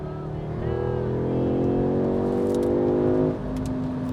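A 2021 Audi S3 8Y with a dual-clutch gearbox in manual mode pulls hard, its engine note rising steadily and loud before a quick gear change drops the pitch, then carries on.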